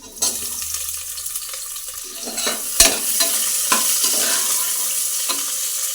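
Chopped onions fry and sizzle in a pan for bisi bele bath while a spoon stirs them, scraping with a few sharp clanks against the pan, close and loud with no talk.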